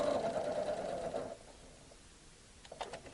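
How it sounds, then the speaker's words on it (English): A Janome Memory Craft 6500P sewing machine stitches in a brief close whirring burst that stops after about a second, leaving faint quiet handling sounds. "I'm going to go ahead and lift the presser foot with the knee lift and stitch again."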